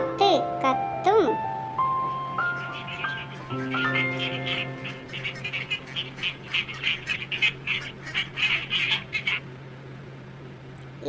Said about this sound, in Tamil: வாத்து கத்தும்